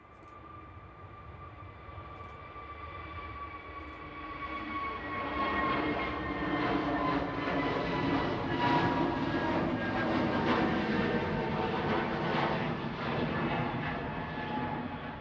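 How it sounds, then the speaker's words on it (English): Qatar Airways Boeing Dreamliner taxiing at Manchester Airport, a distant jet engine whine and rumble that swells gradually louder and stays steady, heard alone without talk. "We have the Qatar Dreamliner taxiing out now."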